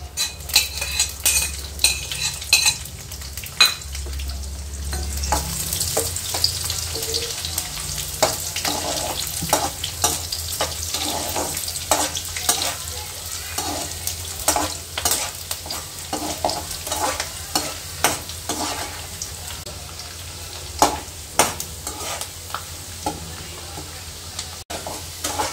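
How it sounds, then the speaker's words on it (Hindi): Dry fruits fry in hot ghee for sweet seviya, a steady close sizzle with frequent ladle taps and metallic scrapes against the pan throughout. "ड्राई फ्रूट अच्छे से फ्राई होने आ चुके हैं, अब मैं इसे निकाल दूंगी।"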